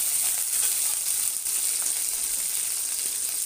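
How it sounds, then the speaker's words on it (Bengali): Eggs, potatoes and chillies frying together in hot oil, a steady close-up sizzle with a bright hiss and faint crackles, unbroken and alone. "ভাজার সাথে সাথে আমি ডিমটা আর আলুটা ভালোভাবে ভেজে নেব।"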